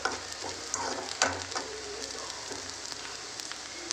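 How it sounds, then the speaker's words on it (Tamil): Onions sautéing in a pan for eggplant thokku, a steady soft sizzle with occasional light scraping clicks of stirring, moderately close and without any voice. "ஒரு 5 நிமிஷம் இந்த வெங்காயத்தை நல்லா வதக்கிக்கோங்க"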